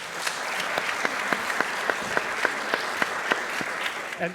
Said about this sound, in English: let's just have a round of applause for her first.